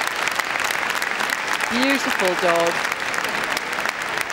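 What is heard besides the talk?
crowd applause for Hungarian Vizsla at Crufts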